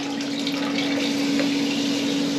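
Water running steadily through a Camplux Nano 3 Pro portable water heater fed from a bucket, a constant close hiss with a fixed low hum from the pump, unbroken for the whole stretch.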